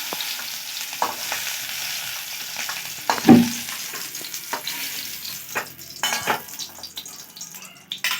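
Food fries in oil in a pan, a continuous close sizzle broken by scraping stirs and a few clinks of a utensil against the pan, with no voices heard.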